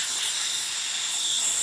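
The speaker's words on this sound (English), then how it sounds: "Nice steam coming out of the machine." A freshly serviced DeLonghi Magnifica XS espresso machine sends steam from its wand in a strong, continuous high-pitched hiss, close and steady, with nothing else audible.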